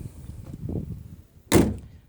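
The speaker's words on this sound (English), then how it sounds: "Door shuts quite nicely." One solid slam as the door of a Standard Swallow classic car is shut, preceded by soft handling noise, loud and close.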